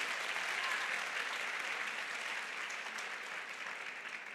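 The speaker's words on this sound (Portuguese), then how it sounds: "Pode aplaudir Jesus." Applause fills a hall at a women's church conference, a dense and even wash of many hands clapping that holds steady for several seconds with no voices over it.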